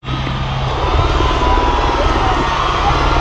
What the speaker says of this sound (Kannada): ಮೈದಾನದೊಳಗೆ ಪ್ರವೇಶ ಮಾಡಿದೆ ಈ ವಿಮಾನ.